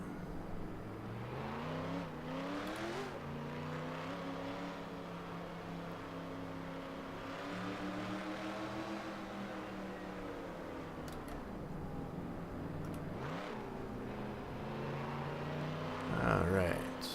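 A video game car drives along with a steady engine drone, its pitch dipping and climbing as it accelerates and eases through turns. A voice talks now and then over the engine.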